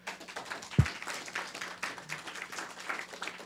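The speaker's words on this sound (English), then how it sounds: "Let's give them a round of applause." A forum audience applauds the panel with soft, scattered clapping that carries on evenly throughout, broken by one brief low thump near the start.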